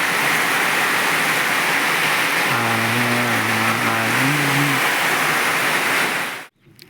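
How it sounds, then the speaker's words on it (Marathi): Heavy rain pouring steadily outdoors near farm fields after a night of thunder and lightning, a dense continuous hiss that holds loud and even throughout, with a brief low tonal hum partway through before cutting off abruptly at the end. "रात्री पण आता सध्याला फक्त पाऊस आहे"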